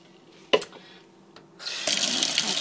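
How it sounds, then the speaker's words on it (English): A kitchen tap runs water into a container of sprouting seeds, starting after a couple of clicks and a short knock, then flowing as a steady, fairly close rush to the end. "Add some water."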